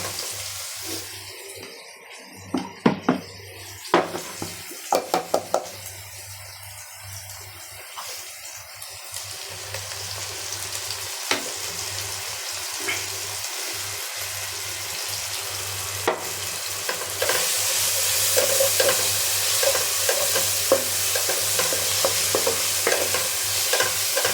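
Onion and ground spice paste fry in a pan, with clattering stirs and scrapes early on and a steady hiss that swells louder toward the end, close by with no talking.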